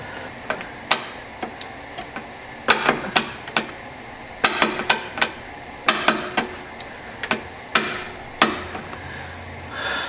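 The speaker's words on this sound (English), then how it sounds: "I'm actually putting the drain plug back in and gonna torque it down to spec" A torque wrench tightening a rear differential drain plug on an Infiniti Q60 gives sharp metallic ratchet clicks in irregular close bursts, loud against a quiet workshop background.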